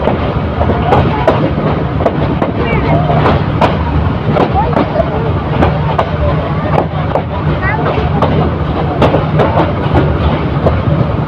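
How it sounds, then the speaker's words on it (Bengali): The Karnaphuli Commuter local train rolls into platform 1 at Brahmanbaria railway station, a loud continuous rumble with rhythmic clanks and squeaks of wheels over the track, people talking amid the din. "কর্ণফুলী কমিউটার ট্রেনটি অবশেষে ব্রাহ্মণবাড়িয়া রেল স্টেশনে এসে প্রবেশ করছে তার 1 নম্বর প্ল্যাটফর্মে।"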